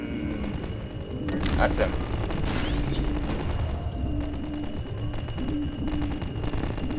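Rapid weapon fire rattles in bursts at giant striders during Half-Life 2 combat, loud and continuous under a voice talking.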